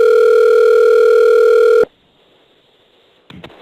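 A steady telephone call tone sounds on a recorded phone line for almost two seconds, then stops suddenly, leaving faint line hiss and a few short clicks near the end.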